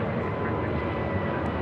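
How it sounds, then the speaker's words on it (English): At LAX, a Spirit Airlines Airbus A320neo takes off with a steady, dense jet roar that holds an even, moderate level from start to finish. "This is Spirit Airlines 631 taking off to Atlanta, Georgia on an A320 Neo."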